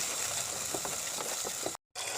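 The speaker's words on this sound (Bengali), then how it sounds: "টমেটো পেস্ট দিয়ে ভালো করে কষিয়ে নেব" Masala with tomato paste frying in a pan for ghee chicken, giving a steady close sizzle and bubbling hiss with faint stirring clicks, broken by a brief cut to silence near the end.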